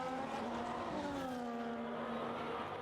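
A high-revving Sauber Formula 1 car engine in a racing video game, at the Netherlands race, drones steadily, its pitch sliding gradually downward, with no voices over it.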